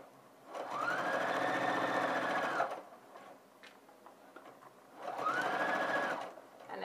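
A sewing machine stitches a jacket lining at a back vent down to the hemline in two sustained runs of rapid, even whirring, close by, separated by a short quiet pause.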